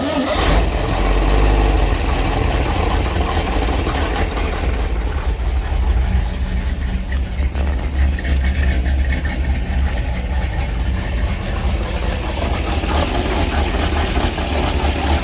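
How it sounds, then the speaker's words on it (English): A 1957 Chevrolet Bel Air engine turns over and settles into a steady, rumbling idle that continues loud and close throughout, with no talking; it has an exhaust manifold leak. "Show you how good this thing starts up."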